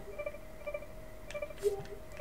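Quiet phone dialing from The Sims Bustin Out, with soft electronic tones and beeps over a faint steady hum and a brief brighter blip near the end, with no one talking.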